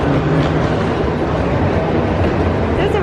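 AirTrain airport rail shuttle rumbles along in a steady, loud, continuous roar with faint rail clatter, heard from on board with no talk over it.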